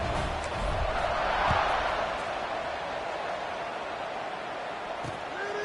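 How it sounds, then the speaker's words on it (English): Stadium crowd noise from the College Football 26 video game, a steady broad roar that swells briefly early on and then holds at a constant murmur throughout, with no clear talk on top. "this crowd is buzzing after that last score"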